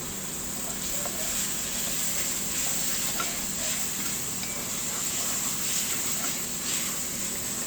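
Tomatoes cook down in a pot of githeri with potatoes, giving a steady soft sizzle and bubbling with faint scattered stirring ticks.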